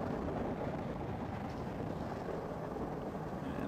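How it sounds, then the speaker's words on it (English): Atlas V 551 rocket with solid boosters lifting off, a steady broadband roar heard from a distance, continuous and unbroken across the whole stretch with a wind-like rumble. "liftoff of the United Launch Alliance Atlas V rocket carrying SILENTBARKER NROL-107"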